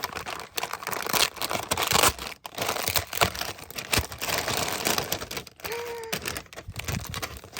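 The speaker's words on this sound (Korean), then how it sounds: "그래서 일단 뜯어볼게요" Paper packaging is ripped and crinkled open by hand during an unboxing of K-pop merchandise, a busy run of close tearing and rustling bursts with brief pauses and no talk.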